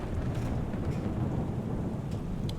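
Steady roar of heavy rain with low rumbling thunder in a simulated thunderstorm around a small Cessna in Microsoft Flight Simulator, continuous and loud throughout with a few brief crackles.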